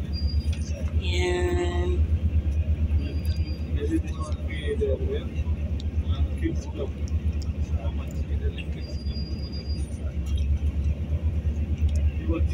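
Steady low engine rumble and road noise from inside a city bus crawling through heavy traffic near an airport, on the way to a Saturday market, with people talking over it throughout.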